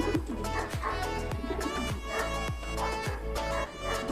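A small Taiwan-breed pigeon coos repeatedly up close, producing a rhythmic series of low throaty coos over a faint background hum.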